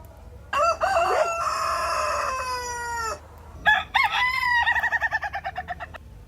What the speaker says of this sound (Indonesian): Wow, ternyata seekor ayam jago.